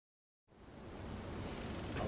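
Steady rain pours in Zelda Skyward Sword HD, starting abruptly after a brief silence and continuing as a soft, even wash of noise that grows gradually louder.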